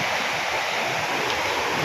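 Strong sea waves roar in a constant, loud broadband wash near a coastal province shore, steady and alone.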